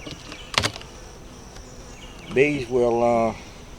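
Honey bees buzz at a hive, a brief sharp tonal drone rising near the end, loud and close, after a quiet stretch with a faint click.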